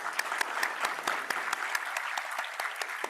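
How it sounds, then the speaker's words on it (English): Steady applause from an audience at a business school induction program as guests are introduced, dense clapping with no talking. "A huge round of applause."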